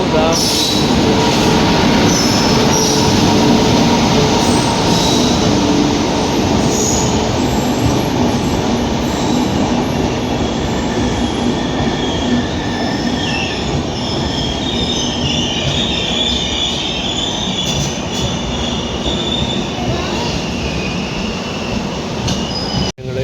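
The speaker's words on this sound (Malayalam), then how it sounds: "അങ്ങനെ നമ്മുടെ ട്രെയിൻ വന്നു." A train pulls into a station platform on the way to Rameswaram, a loud continuous rumble with squealing wheels and rail clatter that holds throughout, faint voices and platform bustle underneath.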